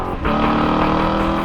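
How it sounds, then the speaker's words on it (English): A Corvette C7 fitted with a Borla S-Type exhaust revs loudly and steadily, a dense aggressive engine roar that swells just after the start and holds full for over a second. "Our S-Type sound is much more aggressive throughout the entire power band."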